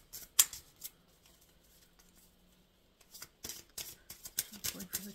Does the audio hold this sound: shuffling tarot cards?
yes